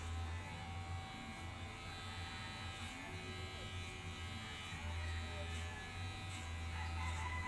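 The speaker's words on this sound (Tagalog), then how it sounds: "ginugupitan niya yung sarili niyang buhok" Electric hair clippers buzz steadily and close as a man cuts his own hair, with a constant hum throughout and faint roosters or chickens somewhere in the background.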